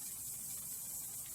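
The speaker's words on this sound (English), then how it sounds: "Just spraying it down." All-purpose spray adhesive hisses steadily from an aerosol can onto a motorcycle seat being re-trimmed, a continuous close, bright spray with no breaks.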